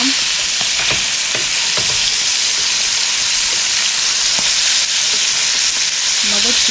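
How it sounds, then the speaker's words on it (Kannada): River fish, Kundapura-style black fish fry, sizzles steadily in a hot pan, with a few soft clicks and scrapes as the pieces are turned over; the frying hiss is loud and continuous with no talking. "ಒಂದು ಸೈಡು ಫಿಶ್ ಫ್ರೈ ಆಗಿದೆ. ಇವಾಗ ಇನ್ನೊಂದು ಸೈಡಿಗೆ ಫ್ಲಿಪ್ ಮಾಡುವ."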